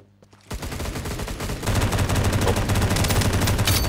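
Rapid bursts of automatic gunfire from the mobile shooter Lost Light, an Escape from Tarkov–style game, crackling loud and continuous after a brief quiet start, with dense repeated shots layered over game ambience.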